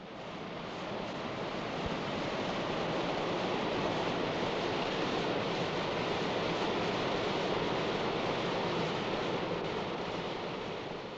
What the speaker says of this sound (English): And yet, if you go to the hills near Tintagel, you'll find a waterfall beside which St. Nectan built his hermitage 1500 years ago.